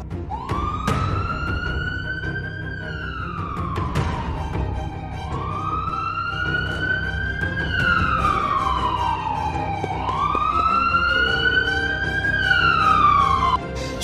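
An ambulance siren wails, sweeping up and down in long, repeating cycles, loud and steady, with a low rumble of traffic beneath it.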